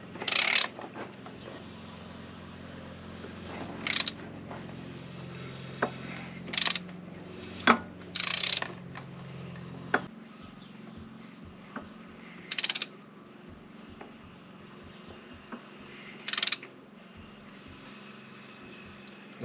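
A hand ratchet clicks in short, spaced bursts while turning over a Mercedes OM602 diesel engine in a W210 E290, with quiet workshop handling sounds between the strokes and no talk.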